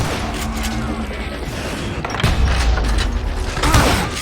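Gunfire in the Western shooter Call of Juarez Gunslinger comes in a dense run of shots and booms, louder toward the end, over game music and mechanical effects.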